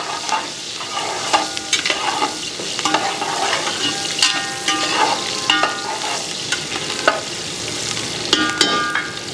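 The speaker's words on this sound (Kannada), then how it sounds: "ಒಂದೆರಡು ಗಡ್ಡೆ ಈರುಳ್ಳಿ ಹಾಕ್ಕೊತಾ ಇದ್ದೀನಿ ಚೆನ್ನಾಗಿ ರೋಸ್ಟ್ ಮಾಡ್ಕೊಳ್ಳಿ ಕೆಂಪಗಾಗಬೇಕು" A couple of onions roast in a little oil in a pan, a steady close sizzle broken by frequent scraping strokes of a stirring spoon, with no voices.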